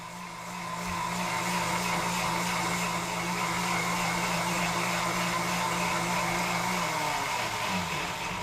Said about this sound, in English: Now speed the machine up a bit just so everything is perfectly blended.